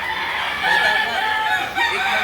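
Chickens cluck steadily and a rooster crows at a poultry market where eight-month-old chickens are sold, a dense, continuous layer of fowl calls throughout with no clear voices.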